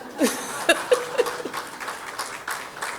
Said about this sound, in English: If you all don't clap, I will feel real bad.